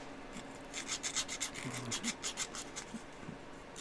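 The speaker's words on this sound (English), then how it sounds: "Let's get that sanded down and good to go." A wooden part for a monowheel build being hand-sanded, with steady back-and-forth rasping strokes in an uneven rhythm, close and moderately quiet, with no talking.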